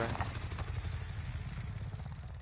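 A supply helicopter in the Warzone video game, a dense low rotor thump with engine whine filling the short stretch, steady and close with no break.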